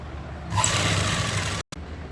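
A sewing machine stitching a kurti runs in one steady close whirring burst after a quiet start, cut by a brief silent gap near the end.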